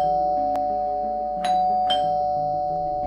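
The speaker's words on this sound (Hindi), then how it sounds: "काफी देर से डोरबेल बजा रही थी।" An electronic doorbell chimes with a sustained tone, sounding a few quick rings in succession, clear and close with no talking.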